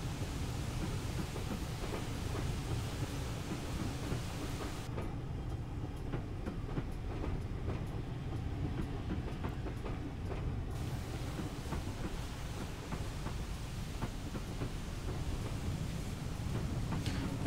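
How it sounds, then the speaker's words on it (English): A Castle Class steam locomotive hauls its train along the Severn Valley Railway, a steady low rumble of running wheels with regular rhythmic clicks over rail joints, continuous and fairly close. "when the rear of the train gets through that, we'll be able to speed back up again"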